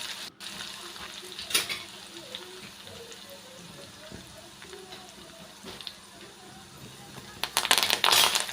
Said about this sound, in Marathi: थोडी मिरची आणि लसूण ठेचून तोही परतून घेणार आहोत